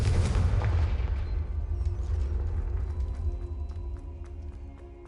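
A Confringo spell explosion in a Hogwarts video game: a loud, deep boom that bursts at once and decays over a few seconds into a lingering rumble, with small clinks and mechanical ticks trailing after, no talking.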